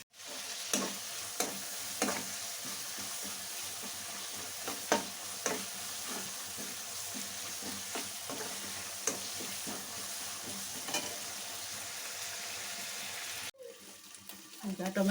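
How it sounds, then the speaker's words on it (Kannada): Tomatoes fry in masala for a radish curry, giving a steady close sizzle broken by repeated spoon scrapes and stirring clatter, with a brief louder clatter near the end. "ಸ್ವಲ್ಪ ಹೊತ್ತು ಮಸಾಲ ಮುಚ್ಚಿ ಟೊಮೆಟೊ ಹಾಗೆ ಫ್ರೈ ಆಗೋಕ್ಕೆ ಬಿಟ್ಬಿಡೋಣ."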